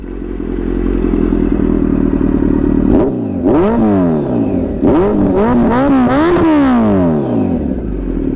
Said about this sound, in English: Let me start the bike, hear the sound. So it is loud, guys.